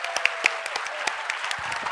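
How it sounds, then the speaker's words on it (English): Audience applause after a Jack the Ripper book session at the Jaipur Literature Festival 2017, a steady patter of many hands with a few sharper claps standing out, filling the whole moment. "A big round of applause for Jack and the Ripper."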